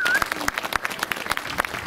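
Outdoor applause from a crowd at a Saint Martin's Day gathering in a German village, a brief burst of scattered hand claps heard up close, with a voice faintly in the background.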